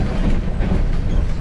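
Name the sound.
train riding from Tashkent to Samarkand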